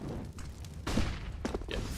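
Gunfire crackles during a competitive Rainbow Six Siege match, a few quick, muffled bursts of shots against a low background of game ambience.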